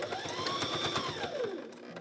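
A sewing machine stitches binding onto a quilt, a rapid, even mechanical chatter running continuously at close range, with a faint whining tone rising and falling over it.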